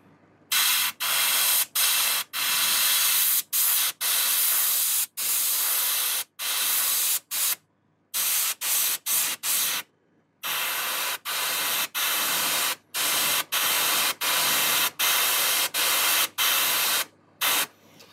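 An airbrush sprays paint onto a handmade fishing lure in many short hissing bursts, some brief and some lasting a second or more, separated by sharp silences, close and loud.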